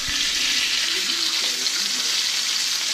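Steak frying in hot oil in a pan, a loud, steady, close hiss and crackle that fills the whole moment without a break.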